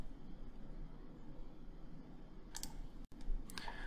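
A few faint, sharp computer mouse clicks come near the end while GeoDict software is operated, set against a quiet background hiss.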